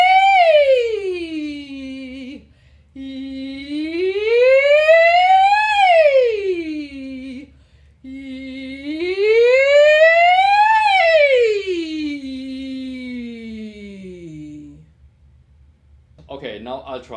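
A person's voice slides smoothly up and down on a vowel in two long swoops, imitating a police siren as a singing range exercise, clear and close with brief pauses between glides.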